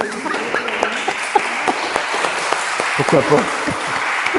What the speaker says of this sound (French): bon, on l'applaudit.